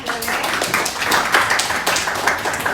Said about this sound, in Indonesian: Oke, kita beri tepuk tangan ya.